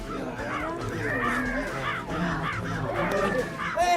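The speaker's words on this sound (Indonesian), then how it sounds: "Jenazah Doni dipatokin burung gagak" Several crows caw harshly and repeatedly, their calls overlapping in a close, continuous chorus that fills the whole stretch.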